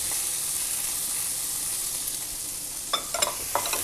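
Bell pepper and onion sautéing in a teaspoon of oil, a steady close hiss of frying with a few brief stirring clatters near the end.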